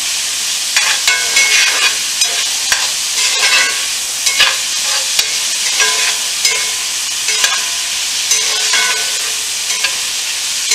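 Bread toasting in butter in a pan for shrimp sandwiches, a bright steady sizzle with repeated spatula stirs and scrapes rising above it at irregular intervals.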